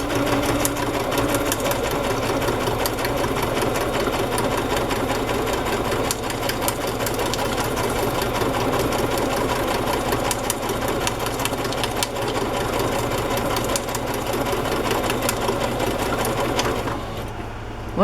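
A sewing machine stitches through a paper journal page, running loud and steady in a continuous rapid mechanical whir for nearly the whole stretch before stopping near the end.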